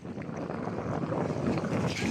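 Steady rushing water and wind noise as a small outrigger boat moves through choppy waves off a Zambales beach, loud and continuous with no voices.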